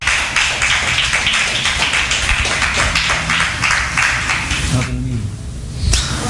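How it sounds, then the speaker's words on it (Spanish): A church congregation applauding loudly with steady, dense clapping that breaks off near the end, followed by a brief thump. "Denle un aplauso al Señor."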